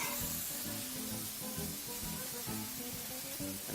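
Garlic, ginger and chopped onion fry in a pan with beans, giving a steady, close hissing sizzle throughout, alone with no talking.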